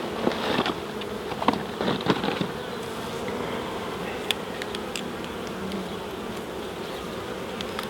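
Honey bees hum steadily around an open hive during mite treatment, a close, continuous drone with a few small clicks and knocks of equipment over it.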